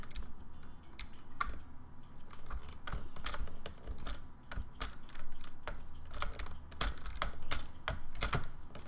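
Computer keyboard keys clicking in quick, uneven bursts during a Terraria gaming session, close and fairly steady throughout with no talking.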